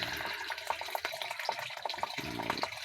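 Water running steadily, like a tap or a stream, with soft splashy texture and small drips throughout, fairly quiet.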